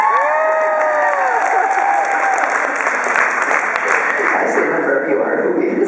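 An audience at an author's talk breaks into loud, sustained applause with scattered laughter and cheering, a dense wash of clapping that carries on for several seconds.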